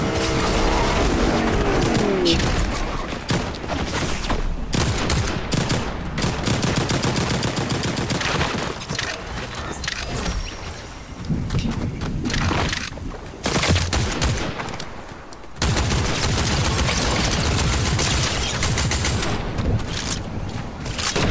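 Rapid bursts of gunfire from the video game Fortnite crackle almost without pause, dense and loud throughout with brief gaps, like sustained machine-gun fire.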